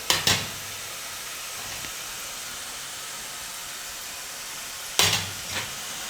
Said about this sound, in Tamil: டக்கு டக்குன்னு நீங்கள் சுற்றி சுற்றி நீங்கள் எண்ணெயில் போட்டு பொரிச்சு எடுத்துருங்க.